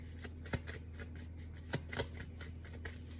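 Tarot cards shuffle quietly in hand, a soft continuous riffling and papery rustle with a few sharper slaps of cards, close and low in level with no voices over it.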